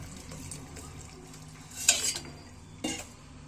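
A spoon stirs mosappu sambar in a cooking pot at home, faint and close, with a couple of light metallic clinks against the pot over a soft, steady kitchen background.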